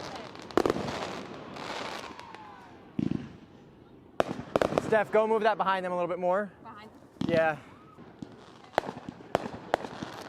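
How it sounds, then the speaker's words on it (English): Fireworks pop and crackle in scattered sharp bursts at an outdoor wedding photo shoot, sounding moderately distant, while a photographer and others talk over them. "watch the fireworks some more, guys. Watch the fireworks some more."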